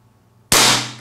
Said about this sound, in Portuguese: Então, eu vou efetuar um disparo ali na almofada.